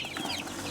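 Imported Bangkok chickens cluck and squabble together while being fed maggots, a short close burst of overlapping clucks over steady farmyard noise.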